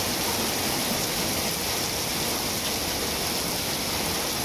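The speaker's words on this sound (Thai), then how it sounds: "เนื่องจากว่าฝนตกหนักมากนะครับ" Heavy rain pours steadily in a dense, unbroken hiss, loud and close, with no voices, during a thunderstorm with strong wind in Khon Kaen, Thailand.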